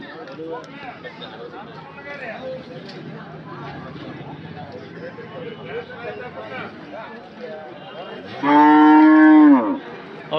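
Cattle at the Anthiyur cattle market, with a loud, drawn-out moo near the end rising above a constant background of crowd chatter and market bustle.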